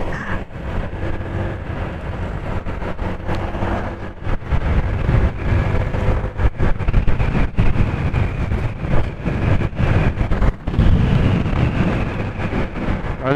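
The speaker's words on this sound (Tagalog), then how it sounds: "Malakas ang hangin." Strong wind buffets a microphone during a wet motorcycle ride, a loud, uneven rumbling roar with gusty bursts and dropouts over the low hum of the moving bike.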